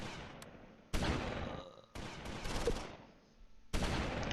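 Gunfire in a Close Combat IV World War II battle at Udenbreth, with sudden sharp bursts of shots and rumbling explosions recurring every second or so, fairly distant and mixed with battlefield noise.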